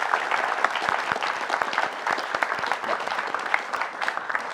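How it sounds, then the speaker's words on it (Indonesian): Studio audience at an Indonesian talk show on spiritual matters applauds a guest, steady dense clapping filling the space for several seconds with no one speaking over it. "Tepuk tangan boleh buat narasumber saya pertama."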